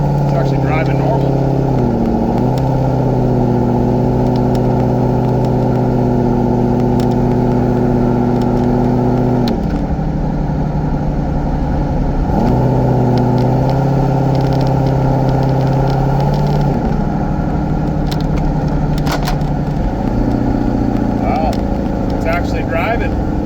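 A car fitted with a Holley Terminator X fuel injection system drives along with its engine running steadily and loud, the pitch rising and falling through gear changes, while a person talks over it.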